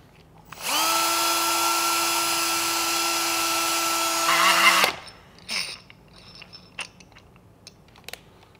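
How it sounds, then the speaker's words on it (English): A power scraping tool runs on the end of a plastic pipe, a loud steady whirring buzz lasting about four seconds that strains slightly near the end before cutting off, followed by a few scattered clicks and handling noises. "I'm going to insert this onto the end of the pipe, and I'm going to get my even scrape across the surface."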